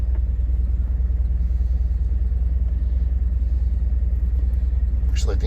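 A 1973 Alfa Romeo Spider engine rumbles steadily at a low, even idle up close after a cold start, with a brief faint clatter at the end.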